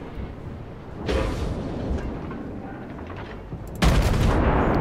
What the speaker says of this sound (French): Mais regardez-moi ces tirs! Ça n'a aucun sens!